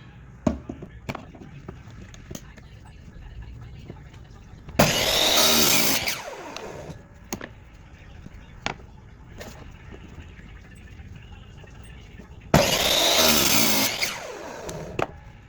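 A power saw cutting a piece off a block of wood for a cigar box guitar build, two loud harsh bursts of roughly a second or two each, close by, separated by quieter handling knocks and taps.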